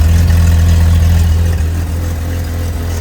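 A Jeep YJ on a four-link suspension idles with a fresh muffler fitted, a steady, loud low rumble with a slight uneven miss running throughout, close by and with no voices.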